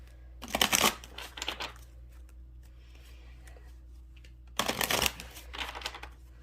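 Two bursts of crisp tarot card shuffling, a riffling flutter that rises and settles, separated by a few seconds of quiet room tone.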